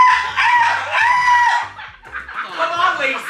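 A voice imitates a rooster's crow in two loud, wavering bursts, the first long and the second shorter and more broken, with a short pause between them.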